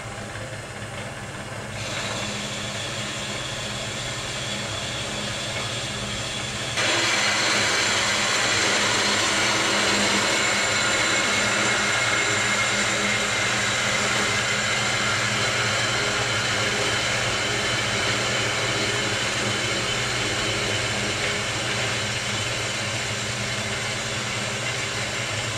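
A cutting tool slicing through a turbo intake pipe section on a Jeep, a steady loud grinding whine that jumps louder partway through and runs continuously without pause.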